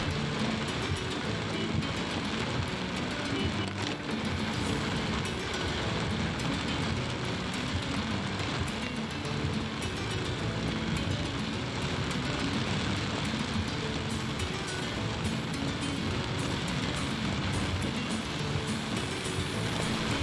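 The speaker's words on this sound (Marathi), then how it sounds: "पाऊस एकदम मुसळधार पडत आहे." Heavy monsoon rain over Mumbai's Western Express Highway, a dense continuous roar of downpour mixed with traffic rumble, steady and loud throughout with no speech.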